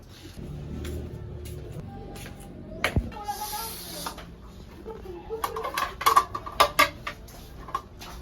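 Ceramic plates clink and knock together as they are carried to a table at home, light scattered clatters growing busier toward the end while people talk.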